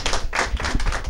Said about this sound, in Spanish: Un aplauso a los chicos y al profesor, que lo hicieron muy bien.